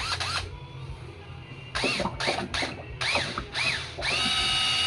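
A power drill mixing epoxy for a countertop whirs in several short bursts with brief pauses between, close by, its pitch rising and falling as it spins up and slows.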